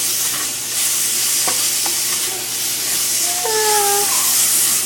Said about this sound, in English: Saute the garlic.